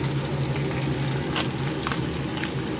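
Hot oil sizzles steadily in a pan after fish has been fried for fish kaliya, a constant close crackle with a faint low hum beneath and a few soft stirring clicks.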